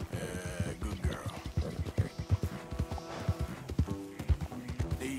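Horse hooves in Red Dead Redemption 2 near Caliga Hall: a steady, close clip-clop of a walking-to-trotting gait throughout, with faint game ambience and tonal music underneath.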